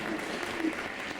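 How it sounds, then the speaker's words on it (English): Brief round of audience applause for Nikki at an International Women's Day community event at Deaf Village Ireland, a soft, even patter of clapping from a small crowd. "So can we all give Nikki another round of applause, please?"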